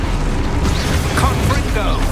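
Expulso explosion spell cast in the video game Hogwarts Legacy: a dense, sustained burst of rumbling noise with a few whooshing sweeps, loud and close throughout, with a game soundscape layered around it.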